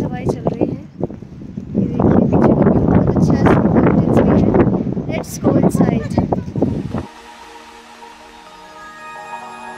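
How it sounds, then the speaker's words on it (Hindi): Strong wind roars and buffets the microphone at Thiksey Monastery in Ladakh, loud and close for several seconds before dropping away to a quieter background. "बहुत तेज हवाएं चल रही हैं।"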